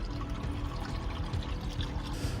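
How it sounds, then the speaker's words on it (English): Oil drains out of a turbocharged Hellcat engine that has water leaking into cylinder seven, a steady close pouring and splashing stream that runs without pause for a couple of seconds with no talk over it. "Drop the oil and see is there water in the oil."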